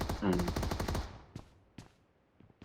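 Rapid automatic gunfire rings out in a video game, a dense burst of shots for about a second, followed by a few scattered single shots at a distance.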